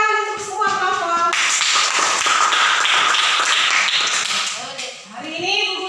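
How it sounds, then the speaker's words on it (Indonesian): Sixth-grade primary schoolchildren in a classroom clap together for every group, a dense, steady burst of many small hands lasting several seconds before dying away, with a teacher's voice speaking before and after. "Tepuk tangan untuk semua kelompok."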